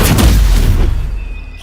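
Stupefy, a stunning spell, is cast in the Hogwarts Legacy video game. It gives a loud booming impact with a rumbling tail that thins out, and a faint thin tone lingers at the end.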